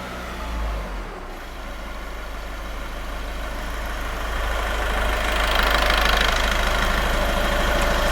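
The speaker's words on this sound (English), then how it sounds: "so while the engine is at idle" A diesel engine idling with a steady knocking rumble, close by, the revs settling and holding at a constant low chug.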